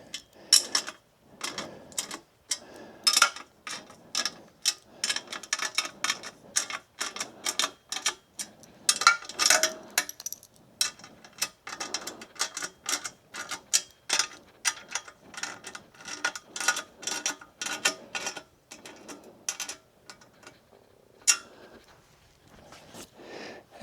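A strap is cinched down on a Bonnlo fishing cart, producing a long run of quick, close ratcheting clicks in an uneven rhythm.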